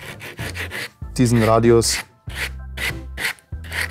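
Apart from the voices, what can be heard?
hand sanding wood with 120-grit sandpaper over a dowel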